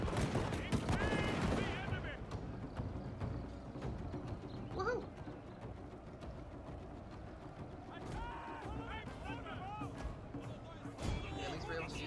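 Troops fire guns in a battle video game: crackling volleys and sharp scattered shots ring out, densest at the start, mixed with battle noise and brief game sounds, fairly faint overall.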